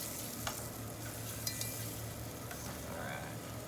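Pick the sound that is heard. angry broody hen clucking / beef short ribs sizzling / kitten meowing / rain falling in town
beef short ribs sizzling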